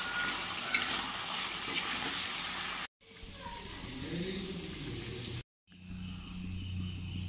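Spiced chicken pulao mixture stirred in a pan, giving a steady sizzle with scraping of a spoon, close and fairly quiet, broken by two short silent gaps between takes.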